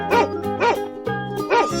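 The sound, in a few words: dog barking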